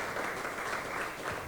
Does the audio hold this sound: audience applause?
yes